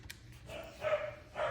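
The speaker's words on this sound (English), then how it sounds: "And that is Dobby barking again." A dog barks a couple of times at a distance, short sharp calls separated by a brief pause, fairly faint against a quiet room.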